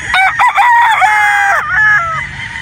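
A Boston Black straight comb rooster, a battle stag on a game farm, lets out one loud, close cock-a-doodle-doo crow of several drawn-out, wavering notes.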